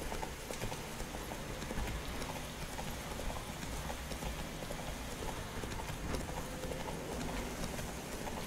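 A horse gallops at steady speed in the Witcher 3 video game, its hooves drumming in a continuous quick clip-clop under ambient game sound, moderately quiet and without talk.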